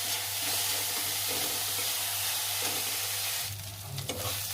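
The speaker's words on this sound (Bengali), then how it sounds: "পেঁয়াজ লঙ্কা সব ভাজা হয়ে গেছে" Onion and green chilli fry together in hot oil, giving a continuous close sizzle with stirring scrapes and a brief louder burst of frying near the end, without any voices.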